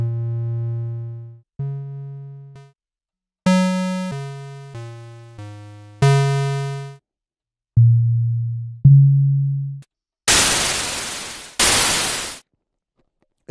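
A polyphonic synthesizer oscillator sounds separate held notes as its waveform switches from pure smooth tones to buzzy harmonic-rich ones, then ends with two loud bursts of hissing white noise; no voices.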